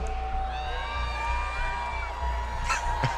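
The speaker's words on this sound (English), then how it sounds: "I feel like the Dickies Arena was not making nearly enough noise there for Peter Bot and Polyo." A large crowd at Dickies Arena cheers and murmurs steadily at the Fortnite FNCS Global Championship 2024, with a few whoops and shouts rising near the end.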